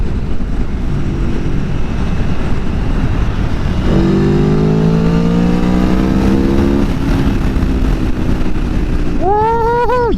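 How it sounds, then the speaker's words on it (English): A 2019 Aprilia Tuono Factory V4 motorcycle accelerating hard, its engine note rising through gears with loud, close revving over strong wind rush, ending in a sharp upward rev. "if you're wondering, does this bike accelerate?"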